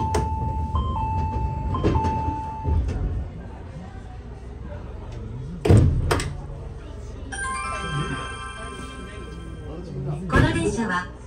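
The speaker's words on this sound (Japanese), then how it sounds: "作業が終わりましたのでドアが開きます。" Electronic chime tones sound, then the doors of an Izukyu 8000 series one-man train thud and slide open with a pneumatic hiss, a second door burst later, amid station background noise.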